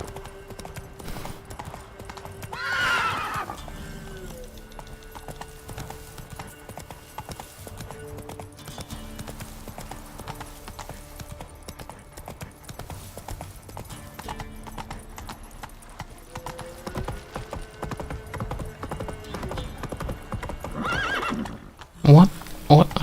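Roach, a horse in a video game, trots with steady rhythmic clip-clop hoofbeats throughout, letting out a loud whinny early and again near the end, with a voice talking over the hooves and game music.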